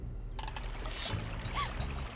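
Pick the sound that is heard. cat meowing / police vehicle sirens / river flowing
river flowing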